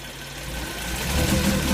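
A Geo Metro engine, suspected of a failed ignition coil, revs at full throttle, a loud, close, rough drone that climbs steadily in strength, with no talk over it.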